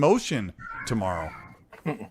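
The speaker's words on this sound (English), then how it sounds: "Sorry for my cat in the background." A house cat meows in the background, a couple of drawn-out rising and falling calls between stretches of a person talking nearby.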